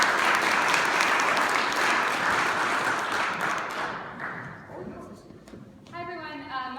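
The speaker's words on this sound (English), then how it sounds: "Let's give her a round of applause." Audience applause fills a community political caucus meeting, loud and sustained for several seconds before thinning out, then a voice begins speaking near the end.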